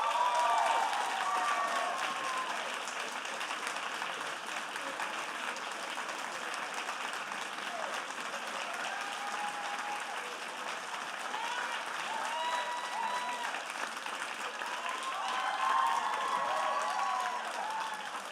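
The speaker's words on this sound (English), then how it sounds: "would you please give the biggest round of applause to Chunka Zan?" A seated audience at a university research presentation competition gives the winner a long, even round of applause, a dense wash of clapping with faint cheers that holds steady throughout.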